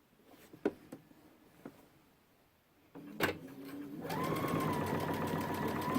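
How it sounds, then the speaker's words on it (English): A sewing machine stitches along a backpack zipper seam, starting after a few soft handling clicks and bumps, then running as a steady, loud, close whirring hum until the end. "Just going to sew right on the seam where I went."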